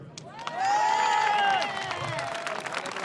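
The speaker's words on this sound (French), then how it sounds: "Vous pouvez vous applaudir." A crowd of over a thousand at an evening political rally on Avignon's Place de l'Horloge claps and cheers loudly, with a sharp whistle rising above the noise before it settles into steadier applause and chatter.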